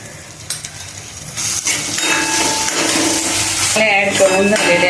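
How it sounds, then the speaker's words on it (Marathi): Red chili powder and onion-garlic masala sautéing in hot oil for a Maharashtrian brinjal curry, a steady close sizzle with scraping stirs and utensil clinks, building louder through the clip. "मसाले चांगले परतून घ्यायचे तेलामध्ये"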